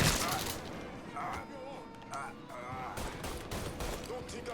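Shotgun blasts and gunfire in the open-world crime game Mafia 3 Definitive Edition, sharp loud reports scattered across a few seconds amid chaotic combat noise, with someone talking over the shooting.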